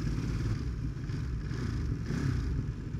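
A Ducati Monster motorcycle engine runs in a steady, low, throbbing rumble with a slight mechanical clatter, close and continuous, with no talking over it.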